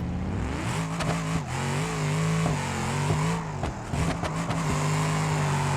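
A Mercedes G-Class Brabus 900 accelerates in the BeamNG Drive video game, its engine note rising and falling through gear shifts, loud and continuous with brief dips between pulls.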